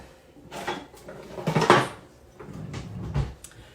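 Banana bread batter of bananas, vanilla, buttermilk and cooking oil being mixed in a bowl in a small home kitchen: irregular clacks, scrapes and knocks of a utensil against the dish in short bursts, fairly close, no talk.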